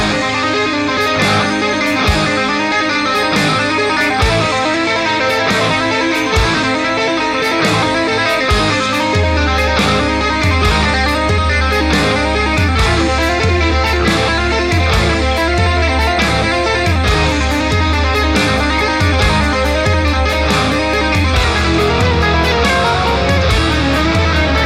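A distorted electric guitar plays a fast tapped lick inside a full song mix with drums and bass. Dense, rhythmic notes run continuously at a loud level.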